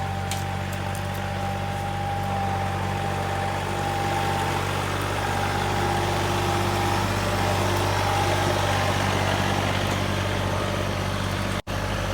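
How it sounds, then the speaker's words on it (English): A John Deere 3033R compact tractor idles nearby with a steady low diesel drone and faint whine, holding an even level throughout before a brief dropout near the end. "my equipment I'm using here is a John Deere 3033R"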